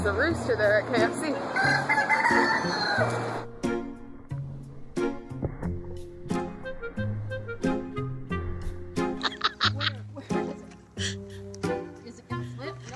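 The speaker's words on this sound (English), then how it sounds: "There's a rooster there at KFC." A rooster crows loudly up close, followed by repeated clucking and squawking calls from fowl in uneven bursts.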